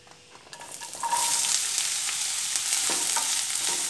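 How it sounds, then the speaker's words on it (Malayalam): Sliced bitter gourd drops into hot oil in a pan for a Kerala pulinkari. A quiet start jumps after about a second into a loud, steady frying sizzle, with no one talking. "ഇനി നമുക്ക് പാവയ്ക്ക അതിലേക്ക് ആദ്യം ചേർത്ത് കൊടുക്കാം."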